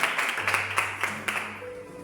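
A church congregation claps in praise during a Spanish-language service: brief, steady applause that fills the space.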